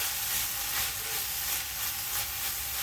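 Small omena fish fry in a pan with a steady, close hiss and sizzle, stirred now and then, the crackling noise running continuously with no talking.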